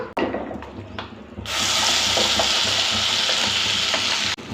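Ground coconut and moong dal go into a hot pan and are stirred, opening with a few clinks and then a loud, steady hiss of sizzling that holds until the end.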